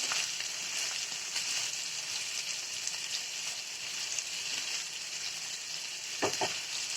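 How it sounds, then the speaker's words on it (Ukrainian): Steady, close sizzling of mushrooms frying in a pan, a continuous crackling hiss with a couple of brief clinks near the end. "Ну, грибочки поки смажуться."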